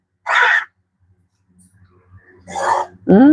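Two short, harsh coughs a couple of seconds apart in a quiet room, followed by the start of a voice.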